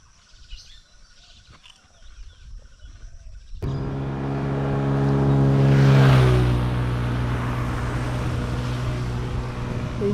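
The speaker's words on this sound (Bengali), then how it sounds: "এই যে বাইকটা গেল" A motorcycle ridden by a young rider on Eid day suddenly roars up close on a road and passes by, its engine droning loud and steady for several seconds.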